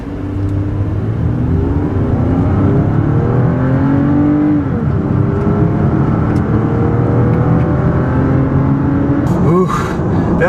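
A Lexus ES 350 pulls hard at full throttle from a standing start, its engine note climbing steadily through the gears in a loud, close, continuous drone, with a brief rustle near the end.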